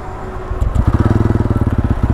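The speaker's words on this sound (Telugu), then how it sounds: "ఫస్ట్ ఇప్పుడు ఇంజన్ సౌండ్ అనేది ఒకసారి వినిపించేస్తాను ఐడియల్గా ఉన్నప్పుడు" A 2024 special edition TVS Ronin motorcycle engine idles close by, a steady, rapid thumping pulse that swells after a brief quieter start and holds an even rhythm alone.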